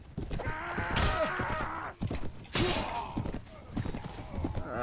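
Horse hooves clopping in a Mount & Blade Warband battle, a busy run of hoofbeats mixed with clashing combat noise, fairly loud and dense throughout.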